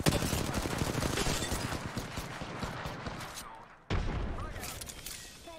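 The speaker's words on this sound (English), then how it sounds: "Listen up, I'm getting shot at." Rapid gunfire in an Apex Legends match, dense bursts of shots rattling almost continuously and close, dropping out briefly before resuming just as loud.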